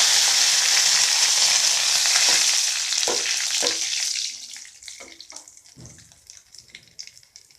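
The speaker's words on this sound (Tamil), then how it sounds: "அடுத்து கருவேப்பிலை போடுறேன்." Curry leaves hit hot oil for a sambar tempering with a loud, hissing sizzle that holds for a few seconds, then dies away into softer crackles and light utensil clinks.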